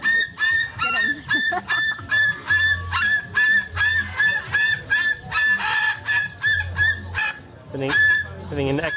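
Geese honk repeatedly at close range in a rapid, rhythmic series of loud nasal calls, with a few brief pauses and some low murmur beneath.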